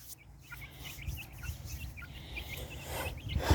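Backyard chickens cluck softly in a steady scatter of short calls, heard from a little distance over a low, rumbling background, with nobody speaking.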